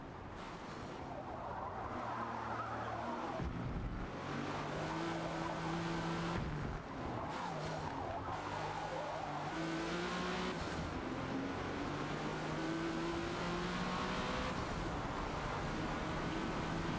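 A race car engine in the Forza Motorsport video game revs and shifts continuously, with rising and falling engine tones through gear changes and occasional tire squeal, loud and sustained throughout.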